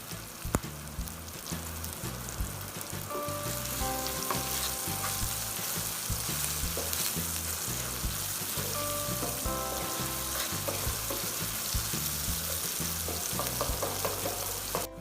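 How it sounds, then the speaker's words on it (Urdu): Tomatoes with salt and spices frying in a pan for a brain masala fry, a steady dense sizzle throughout, close and loud, with occasional stirring clatter and no talk. "ٹماٹر اچھی طرح سے فرائی ہو چکے ہیں"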